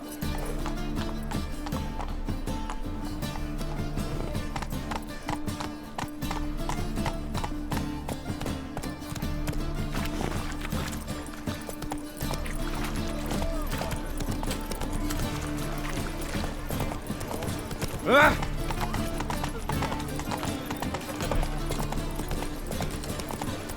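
Roach the horse gallops in The Witcher 3, steady near hoofbeats clip-clopping throughout over a continuous game music bed, with a brief sharper accent near the end.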